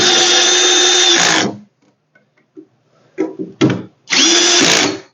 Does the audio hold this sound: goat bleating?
no